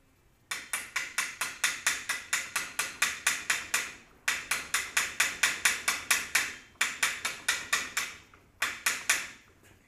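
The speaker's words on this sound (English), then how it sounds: "I will be in the good habit of chipping off the slag" A hammer chips slag off a stick (SMAW) arc weld in rapid bursts of sharp metallic taps, roughly four or five strikes a second, grouped in runs with brief pauses, close and clear with no talking.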